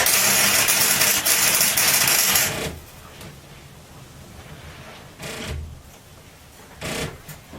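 A welding torch tack-welds scrap metal for a homemade wheelbarrow, giving a loud buzzing crackle for about two and a half seconds, followed by quieter hiss and two short bursts.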